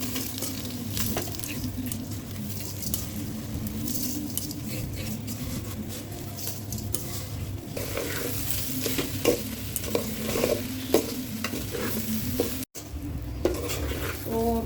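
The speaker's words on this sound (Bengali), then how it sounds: "আমি চালটাকে একটু ভাজা ভাজা করছি" Rice for tehari being fried and stirred in a pot, a continuous sizzle under repeated scraping and clinking of a spoon against the metal, with a brief pause near the end.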